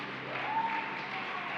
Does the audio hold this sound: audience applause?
yes